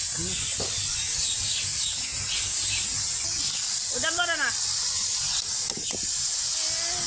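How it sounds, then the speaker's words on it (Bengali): Kolai shak greens stirred and tossed in a hot frying pan, a steady loud sizzle and hiss with occasional scraping and clatter of the utensil, close up with no other sounds over it. "তো শাকটাকে ভালো করে উলট পালট দিয়ে নাড়াচাড়া দিয়ে নেওয়া হচ্ছে।"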